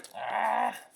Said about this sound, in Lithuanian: Opa, šuo palaidas.